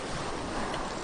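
Ocean waves wash onto a sea shore in Goa as a horror podcast effect, a dense, continuous roar of surf with wind, close and steady throughout.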